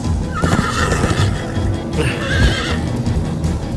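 A horse in Minecraft: Story Mode whinnies loudly twice over a steady clatter of galloping hooves, close and busy throughout.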